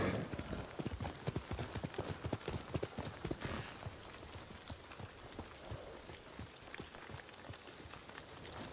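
Horse hooves in the video game Ghost of Tsushima clip-clop in a quick, uneven rhythm, loud and close at first, then softening and blending into a steady patter like rain.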